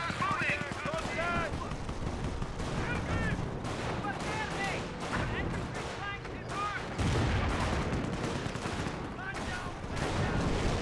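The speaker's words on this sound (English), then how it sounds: "Good mortar hit there." A mortar barrage lands amid a dense, continuous World War II battle in Company of Heroes, with booming impacts buried in rattling gunfire and shouting voices throughout.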